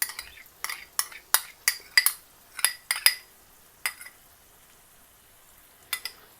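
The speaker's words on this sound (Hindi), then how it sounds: "जो हमने दही लिया आधा कप, इसको अच्छी तरह फेंट लेंगे।" Half a cup of yogurt whisked in a bowl for Kashmiri dum aloo, giving a run of sharp, close clinking utensil strikes in irregular bursts, then a pause and a final clink.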